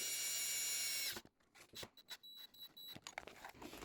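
A power drill drives screws into a bifold door frame, with a loud steady whirring burst that stops abruptly, followed by quieter clicks, scrapes and short handling noises.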